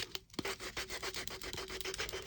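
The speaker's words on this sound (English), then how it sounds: "I'm just going to go round and sand off all the" Sandpaper wrapped on a block rubbing over a damaged decoupage ornament, a quiet run of short, regular scratchy strokes close by with no talk.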